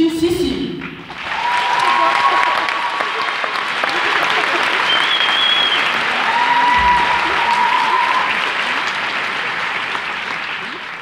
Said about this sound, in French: Je vous prie d'applaudir bien fort Sum Cécile.